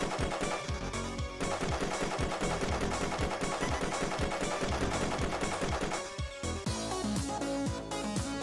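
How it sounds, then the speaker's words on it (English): A submachine gun fires in the top-down action game Shakedown Hawaii in rapid, rhythmic bursts. It sounds loud and continuous over game music, with a brief lull just past the middle. "use your submachine gun on any enemies you see"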